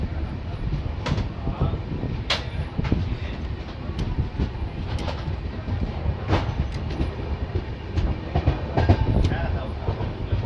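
The Uttarbanga Express rolls into Aluabari Road station in the evening, heard from inside a coach, with steady rumbling and repeated clacks and knocks from the wheels throughout. Voices are faint under the noise.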